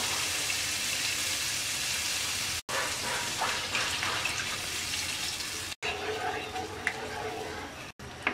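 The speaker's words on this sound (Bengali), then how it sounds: "এবার দিয়ে দিচ্ছি 1 কাপ অরেঞ্জ জুস।" A cup of orange juice is poured into a pan of fried spice paste for orange hilsa curry, producing a steady, close liquid gush with light sizzling, broken by a few abrupt cuts.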